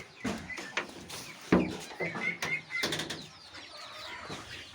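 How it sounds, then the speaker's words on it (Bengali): Chickens let out of their coop, clucking and chattering in short irregular bursts close by, with some rustling and movement. "এই যে এখন আমি আমার এই মুরগিগুলোকে ছেড়ে দেই।"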